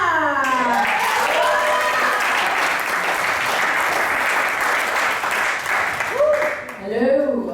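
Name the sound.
audience applauding a comedian at a stand-up show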